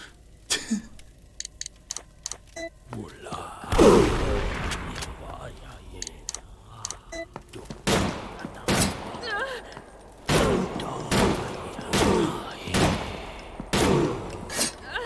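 Video game gunfire from a horror game crackles in a series of sharp bursts, with a heavier blast near four seconds and repeated shots later, clear and close, between stretches of quieter background.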